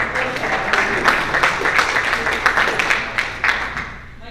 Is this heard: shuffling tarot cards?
no